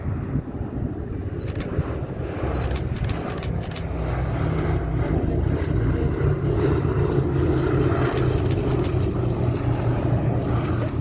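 A propeller bomber flies past at Sywell Airshow, a constant low droning engine rumble heard from a distance, with two quick bursts of camera shutter clicks close by.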